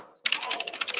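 Rapid, continuous typing on a computer keyboard, close and crisp, with a fast irregular patter of keystrokes after a brief quiet moment.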